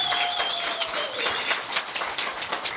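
A crowd applauds steadily, dense overlapping claps filling the room at a lively, even level with a faint tone lingering underneath.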